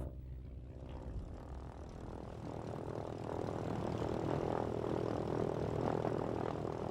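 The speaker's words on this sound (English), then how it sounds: "the visiting aircraft are already queuing to leave." Light propeller aircraft queue to leave the 1993 International Air Rally at Wroughton, their engines droning faintly at a distance and growing gradually louder and fuller.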